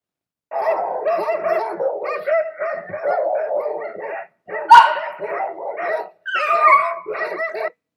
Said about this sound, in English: I didn't expect for the videos to set off the dogs that are actually here with me